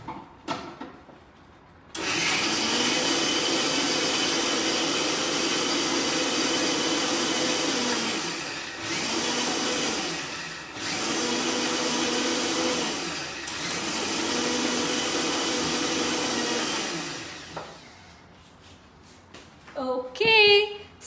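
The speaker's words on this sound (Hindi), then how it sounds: "इसे हम फिर से एक बार ब्लेंड करेंगे" A kitchen blender runs on a walnut mixture in three long, loud whirring bursts with short pauses between them, then stops and gives way to a few faint clatters at the end.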